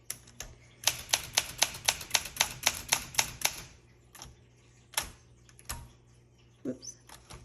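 Keys strike hard on a 1966 Olympia SM9 manual typewriter in a quick run of crisp, evenly spaced clacks, then slow to a few scattered strokes and a soft mechanical thunk near the end.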